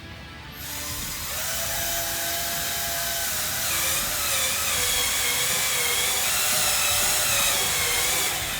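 A Tri Tool portable facing machine cuts the end of an Inconel or Hastelloy pipe, giving a loud, steady mechanical whine and grinding drone with shifting tonal squeals, continuous and close throughout.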